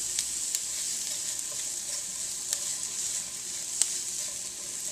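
Onions frying in a pan give a steady bright sizzle, with a few sharp clicks and scrapes as they are stirred, close and without talk.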